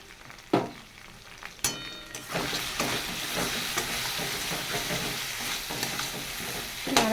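A mustard and poppy seed paste fries in oil with salt and turmeric, giving a steady, close sizzle. Sharp scrapes and clacks of stirring break in at irregular intervals, and nobody speaks.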